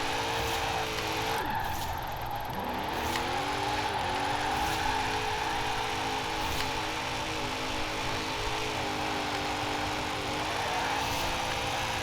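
A near-1300 hp A800 rear-wheel-drive drift-tuned Lexus IS F revs hard with tires burning, a steady, fairly distant roar with wavering engine pitch and a continuous broad hiss of tire smoke.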